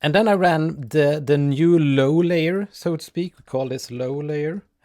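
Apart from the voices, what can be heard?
None of the usual background noises is heard.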